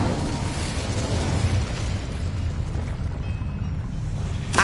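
An Incendio fire spell bursts in a Harry Potter video game, a dense roaring whoosh of fiery noise that fills the whole moment and trails off, with a small sharp pop at the very end.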